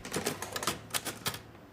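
Crisp, uneven clacks of a manual typewriter being typed on, about a dozen keystrokes close up and alone, with a slight metallic ring.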